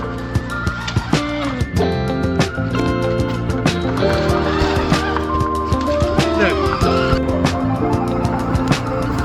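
Gas-powered 4WD Power Wheels Jeep with a 62 hp engine driving, its engine revving and rattling steadily up close, with sharp knocks and bumps and people talking over it.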